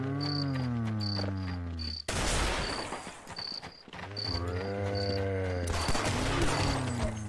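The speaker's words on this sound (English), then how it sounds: "the cops are shooting" Cops fire at the players in the video game Sven Co-op, with rapid bursts of gunfire breaking through droning tonal game sounds and repeated high beeps.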